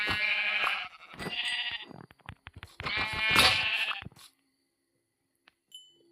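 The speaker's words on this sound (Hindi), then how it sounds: "तो मैं बकरियों को मार देता हूँ।" Goats bleat in the Minecraft video game, several drawn-out wavering calls in quick succession, loud and close, then the clip falls nearly silent.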